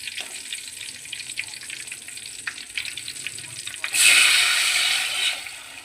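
Mustard seeds and green chillies hit hot oil in a home kitchen, a soft steady background hiss that suddenly swells into a loud, bright sizzle partway through, continuing strongly before easing slightly.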